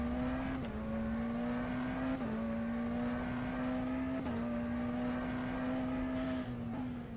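McLaren GTR race car in rFactor 2, its engine holding a steady loud drone with brief dips at gear changes, heard from the cockpit with no talk.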